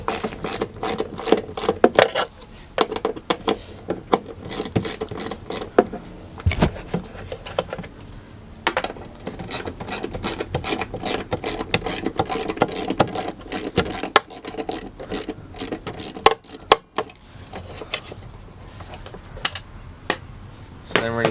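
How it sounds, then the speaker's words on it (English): Two 10mm taillight bolts are backed out on a Nissan Xterra with the tailgate open, producing long runs of fast, close-up ratcheting clicks with brief pauses between. "So that's just two 10mm bolts. And we're just going to unscrew them."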